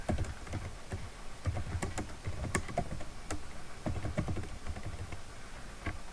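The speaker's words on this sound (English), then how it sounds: "So I'm just going to go ahead and type these commands in." Rapid, uneven clicking of a computer keyboard as commands are typed in, close and clear, with irregular bursts of keystrokes throughout and no talking.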